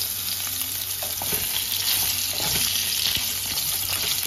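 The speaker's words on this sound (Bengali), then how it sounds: "এবার আমি পটলগুলোকে ভেজে নেব।" Pointed gourd (potol) pieces fry in hot oil with salt added, a loud continuous sizzle broken by scraping stirs, close and steady with no one talking.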